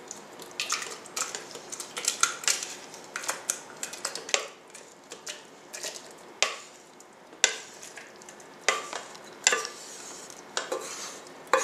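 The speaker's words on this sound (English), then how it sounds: "go ahead and pour my apples into my blender here" Apples are poured into a blender jar for homemade applesauce, producing a series of sharp clattering knocks and thuds in irregular bursts, fairly close and without talk.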